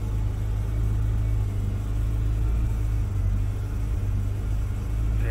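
A car engine idles roughly with a steady, loud, low rumble throughout and no clear revving.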